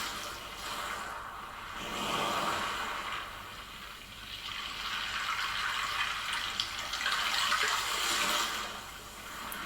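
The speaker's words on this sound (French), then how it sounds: "Écoute le bruit des vagues." Ocean waves wash in and recede in broad, rolling surges, a steady watery rush rising and falling at close range with no voices.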